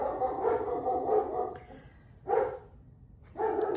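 Dogs bark in several bursts at moderate distance, with pauses between outbursts and a low background rumble underneath.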